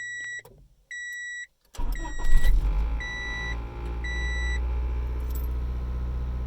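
A 1995 Honda Civic, just repaired after an ignition switch fault, chimes a few beeps as the key turns, then the engine cranks briefly, catches and settles into a steady idle, close and loud.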